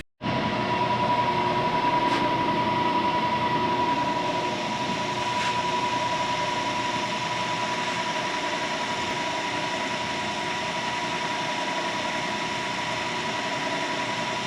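Milling a woodruff keyway with an eighth-inch cutter for a Farmall Super C steering shaft, taking 10 thousandths per pass: a steady machine drone with a thin whine, running continuously for the whole stretch, with two brief sharp ticks early on.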